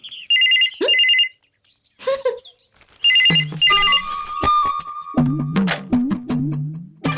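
A phone ringtone trills in two bursts, then people talk while electronic tones continue intermittently underneath.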